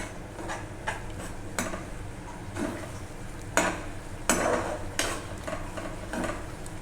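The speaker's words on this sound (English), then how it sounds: "stir it properly for the thickness of the gravy" A utensil scrapes and clinks against a pan of Manchurian gravy in irregular strokes, with a soft bubbling simmer underneath, close up and without talk.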